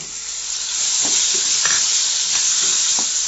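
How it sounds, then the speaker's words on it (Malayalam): Beef fry with crushed ginger and garlic being stirred in a hot pan: a dense, steady sizzle with a few spatula scrapes and taps, close and fairly loud, no speech. "നന്നായി ഇളക്കി കൊടുക്കാം"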